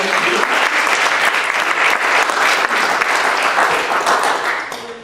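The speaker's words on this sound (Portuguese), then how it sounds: "Puede aplaudir todo lo que queremos." A church congregation bursts into loud, dense applause that fills the room. The clapping holds strong throughout and then thins out right at the end.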